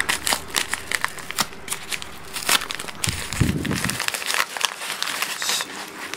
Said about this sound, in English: I'm pretty sure I can just yank it open like so.